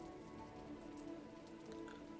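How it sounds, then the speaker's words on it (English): Steady rain in Hollow Knight: Silksong falls as a soft, continuous patter of drops, even and unbroken throughout, with no voices over it. "I never noticed that Hornet gets raindrops on her cloak."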